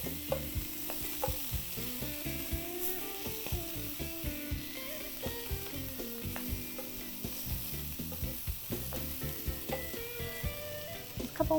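Shrimp frying in a hot pan just after being flipped, a steady sizzle running throughout with clinks of a utensil and stirring scrapes over it, with a sustained tone humming underneath, no talking.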